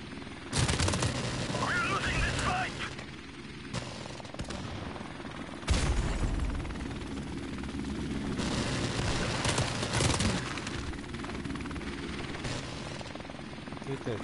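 Helicopter rotor chopping in Call of Duty Modern Warfare on PS4 Pro, a steady throbbing drone overlaid with bursts of machine-gun and rifle fire and sharp impacts, loud and close, with voices speaking intermittently.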